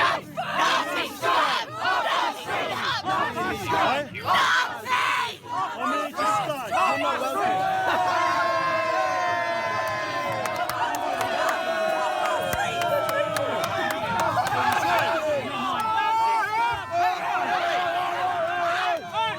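A large protest crowd yells and shouts angrily at a lone Trump supporter, a dense, continuous roar of overlapping voices and cries with jeers rising and falling throughout.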